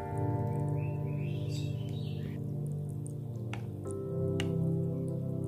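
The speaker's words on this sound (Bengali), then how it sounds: "আর এখন আমার ভেজানো চিড়ার মধ্যে আমি দুধটা ঢেলে দিচ্ছি।" Milk is poured over soaked flattened rice for a dessert, a soft, continuous liquid trickle and gentle splashing heard up close, alone and fairly quiet, with light drips toward the end.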